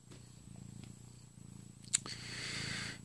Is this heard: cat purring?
yes